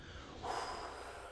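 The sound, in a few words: person breathing out during breathing exercise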